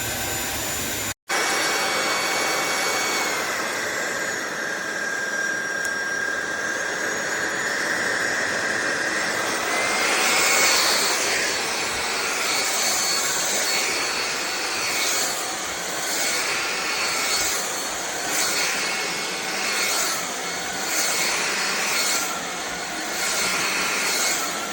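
A SunSare 550W cordless stick vacuum cleaner runs steadily with a loud, continuous high-pitched motor whine, with no talking.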